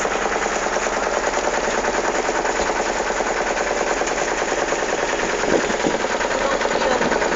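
A motor boat engine drones steadily and close while boating where three rivers meet, the Saraswati and Kapila among them, its rattling throb continuous and loud throughout with no talk.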